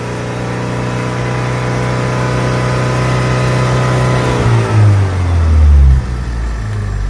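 A Saturn Sky engine with an intermittent overheating fault runs steadily at idle with a loud, even hum. Near the end the pitch shifts and drops as the revs change.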